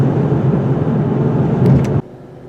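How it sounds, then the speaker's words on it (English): A 2017 Lincoln MKZ luxury sedan cruising on an expressway produces a smooth, steady low road-and-engine drone that holds evenly, then cuts off abruptly near the end. "This is what the Lincoln MKZ was designed for. Nice, smooth, expressway driving."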